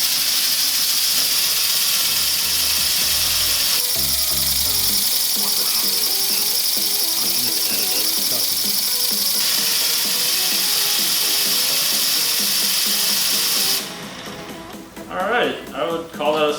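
A small homemade air engine runs on compressed air at 40 psi, giving a fast, steady mechanical ticking and hiss for most of the clip, loud and close, before it cuts off and a voice speaks near the end.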